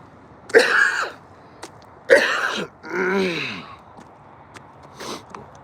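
Three separate close coughs, the third rougher and throatier, followed by a quieter fourth cough after a pause; no talking.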